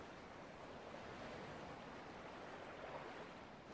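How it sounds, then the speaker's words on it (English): Water waves in the video game Dear Esther wash in a constant soft, broadband surf roar, steady and distant, with no voices over it. "I'd look at that water."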